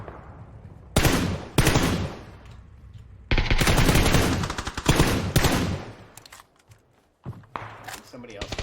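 Gunfire in a video game, several loud bursts of rapid shots separated by quieter gaps, close and sharp, with someone speaking in between.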